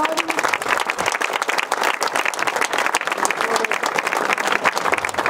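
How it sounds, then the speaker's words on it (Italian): Audience applause for a doctor being thanked at a public event on addiction, with dense, steady clapping from a crowd that sustains at an even level for the whole stretch. "Io farei a questo punto un grande applauso"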